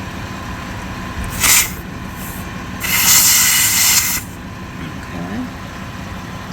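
A Vogma 50 psi electric dual-motor air pump inflating a car tire, a steady low hum broken by two loud bursts of rushing, hissing air, the second lasting over a second.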